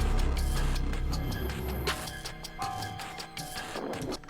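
Electronic song excerpt in a spooky Aooni-style mansion theme with a high C root note layered in, a dense full mix playing continuously at steady volume with no voices.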